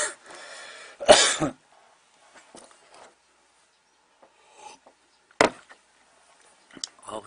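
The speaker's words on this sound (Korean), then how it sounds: "또 기침이 나네요" A couple of sharp, harsh coughs close to the microphone amid quiet, followed later by another short cough and faint rustling.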